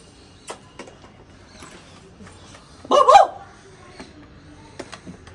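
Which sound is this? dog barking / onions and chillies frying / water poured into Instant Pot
dog barking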